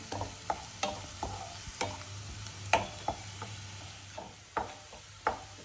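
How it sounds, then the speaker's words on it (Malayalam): Onions fry and brown in a pan under a quiet background sizzle, while a spatula stirs and taps against the pan in regular sharp clicks every half second or so, close and with no talking. "ഇതാ ഉള്ളി ആയി വരുന്നുണ്ട്. ഉള്ളി മൂത്ത് വരുന്നുണ്ടാ."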